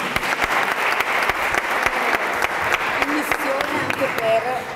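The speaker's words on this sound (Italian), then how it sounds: "Un applauso" An audience at a round-table event applauds warmly: dense, steady clapping from many hands with a few louder nearby claps. Faint voices surface toward the end as the applause carries on.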